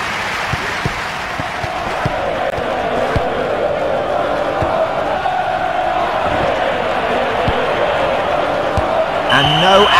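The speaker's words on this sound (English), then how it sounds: "today's match in front of a noisy crowd" A dense, roaring stadium crowd from the FIFA 2000 PC football game, a steady loud wall of cheering and chanting with thuds of kicks, and a rising swell of noise near the end.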